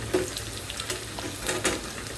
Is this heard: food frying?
yes